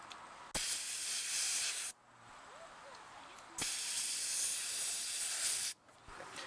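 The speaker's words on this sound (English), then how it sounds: "remove the air from the tire" Air hisses out of a car tire valve being let down with a four-way tool, two long, loud bursts of hissing with a quiet gap between them.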